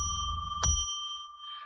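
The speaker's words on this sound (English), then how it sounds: "Then we're going to ring a bell to declare sacred space." A small hand bell is struck once to open a live psychic radio reading, its clear high ringing tone sustaining and slowly fading in an otherwise quiet room.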